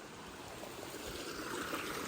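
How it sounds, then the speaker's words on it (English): Storm runoff water streams and trickles across the ground after a big storm, a soft continuous wash that swells slightly louder toward the end, with no talking. "all that water right here would be pouring that way"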